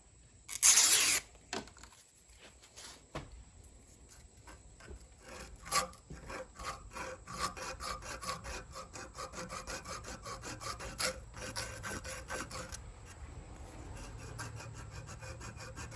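A backwoods knife held in a vise is smoothed with steady, faint rasping and rubbing strokes that grow more regular, after a sharp scrape near the start.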